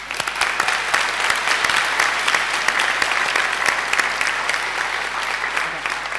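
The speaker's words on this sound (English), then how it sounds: "Please join me in giving them a round of applause." Graduation ceremony audience applauding the graduates, a loud, dense and continuous clapping from a large crowd in a hall, holding steady throughout with no pause.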